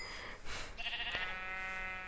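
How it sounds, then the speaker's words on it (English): A video game sheep bleats once, a clear, wavering cry that follows a brief soft rustle and holds on for over a second. "There's a lot of brown sheep"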